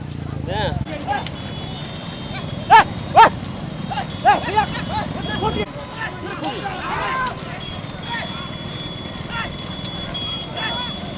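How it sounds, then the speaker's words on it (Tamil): Racing bulls thunder past during a small-bull race at Veelaneri, with rapid hoofbeats and a few sharp clattering knocks over a steady outdoor crowd din, while people talk nearby. "மாடு பார்த்தா பின்னாடி கடந்து வருது"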